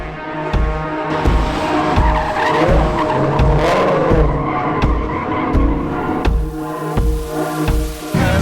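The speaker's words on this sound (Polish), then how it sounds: "I tak odjeżdżając bokiem Mustangów wszystko się rozpoczęło." Ford Mustang tires squeal and skid loudly while engines roar and rev in repeated bursts, as the cars drift sideways close by at a motoring charity event.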